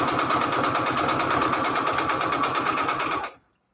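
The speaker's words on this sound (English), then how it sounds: "All I'm doing is sewing all the way around." A sewing machine stitches around the edge of a paper envelope with a fast, even mechanical whir close by, running continuously before stopping abruptly near the end.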